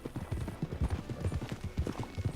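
Horse hooves clip-clop in a steady, close, continuous rhythm on hard ground in the Red Dead Redemption 2 video game, with no voices over them.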